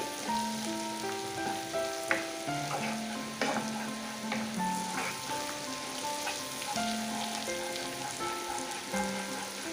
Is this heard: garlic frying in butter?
yes